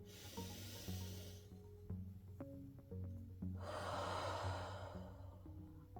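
A person breathes in slowly and deeply, a soft airy hiss heard close over quiet background music, then releases it after a pause.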